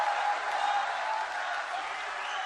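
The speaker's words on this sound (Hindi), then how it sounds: "एक बार जोरदार तालियां माननीय मुख्यमंत्री जी के लिए" Crowd applauding for the Uttar Pradesh chief minister at an inauguration event in Vrindavan, a steady wash of clapping that holds evenly throughout.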